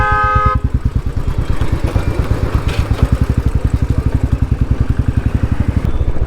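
A Royal Enfield Thunderbird motorcycle thumps along with a loud, even single-cylinder beat close by, opening with a brief horn toot from nearby traffic.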